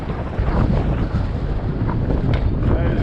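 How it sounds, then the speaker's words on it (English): Strong wind roars steadily across the microphone while cycling in New York City, a heavy low buffeting rumble with no pauses. "Oh boy, that's some wind."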